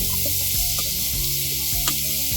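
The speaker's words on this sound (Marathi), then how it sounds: "आता आपल्याला ह्याच्यामध्ये हा बारीक चिरलेला कांदा घालायचा आहे आणि हा छान गोल्डन रंगावर आपल्याला परतून घ्यायचा" Finely chopped onion frying in hot oil for methi matar pulao, a steady loud sizzle with crackles and small pops running throughout, close up and alone.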